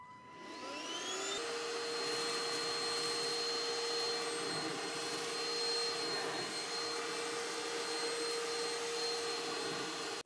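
A Bissell Featherweight stick vacuum runs continuously, its steady motor whine rising as it spins up and then holding a loud, even drone while sucking up household debris, with no talking.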